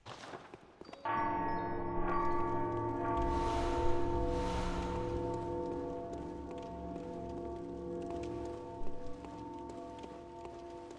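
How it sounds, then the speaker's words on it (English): A bell ringing in Bloodborne, following a music box, with a sharp strike and a long resonant tone that decays slowly over several seconds, alone and fairly loud. "Play the music box. Hear the bell, it will ring."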